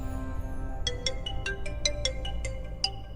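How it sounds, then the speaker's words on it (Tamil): A phone ringtone chirps in a quick series of bright, evenly spaced electronic tones over a low room hum, moderately loud and with no talking. "ஃபோன் அடிக்குது பாருங்க."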